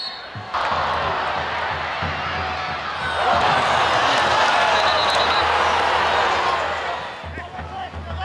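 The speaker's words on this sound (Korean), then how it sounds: "관중의 갈채가 끊이지 않는다" A stadium crowd applauds and cheers at a football match, a broad sustained roar of clapping that swells in the middle and then fades, with a low hum beneath.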